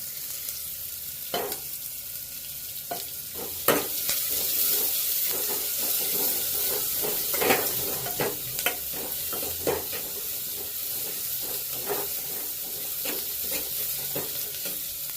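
Onions frying in oil in a pan over a lowered flame, a steady close hissing sizzle broken by frequent scraping stirs, with no talking.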